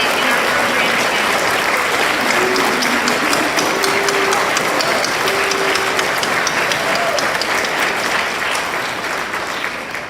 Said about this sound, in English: Won't you please give one last round of applause to our veterans, our guests, and to our student organizations that participated in our program today.